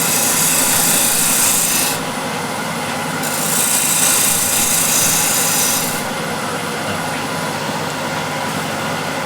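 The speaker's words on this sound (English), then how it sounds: "I'm using scraper and I'm supporting the back of the bowl." A woodturning scraper cuts steadily against a spinning wooden bowl on a lathe, giving a continuous loud rasping scrape that brightens and dulls in bursts as the tool is pressed in and eased back.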